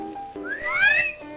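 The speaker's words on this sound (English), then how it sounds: "The hot dogs at our concession stand do rate an appreciative whistle" One rising-and-falling appreciative wolf whistle from a person in a radio drama, clear and close, with a faint background hum.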